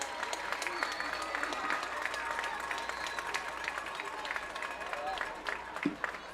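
Crowd applauding and cheering in the stands at a high school varsity football game, Eastern Hancock versus North Decatur, a steady mass of clapping with a few shouts, fairly distant and sustained throughout.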